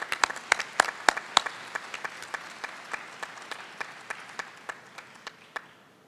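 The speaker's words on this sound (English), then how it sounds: "Let us give a big round of applause to Robert Morris, winner of the Umalka Prize 2016." A mathematics congress prize ceremony audience applauds a prize winner, with sharp individual claps up close over a softer crowd, the clapping gradually thinning and slowing toward the end.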